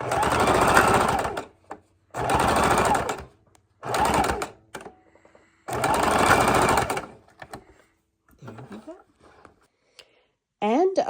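A sewing machine reinforcing the strap of a quilted book bag runs in four loud, close bursts of fast stitching separated by short pauses, and a voice speaks softly near the end.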